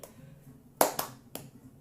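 Three close, soft hand claps at an uneven pace during ball juggling, in a quiet room.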